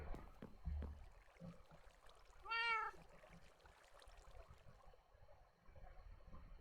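A cat in the Minecraft video game gives one clear, rising-falling meow at mid-volume over a faint background of game ambience and water.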